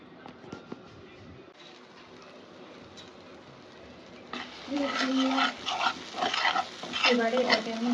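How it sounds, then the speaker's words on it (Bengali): Shrimp bhorta frying in oil in a pan, a soft sizzle that swells into louder crackling and stirring scrapes partway through. "ভালো করে একটু এটা ভাজবো"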